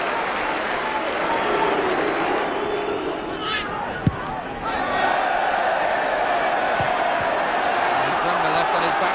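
A football crowd at a 1982 Cup Winners' Cup tie between Spurs and Bayern Munich keeps up a steady, broad roar throughout, with a sharp thump near the middle.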